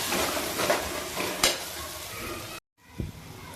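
Ground spices, coriander powder, chole masala and chili powder, sizzle in hot oil as a spoon stirs and scrapes the pan, close and loud, with a brief cut before the frying resumes.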